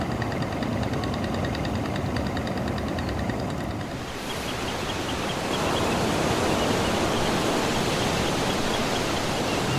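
A river in Cirebon rushes steadily past, carrying sediment downstream: a dense, continuous roar of flowing water at close range, unbroken for the whole stretch with no voices over it.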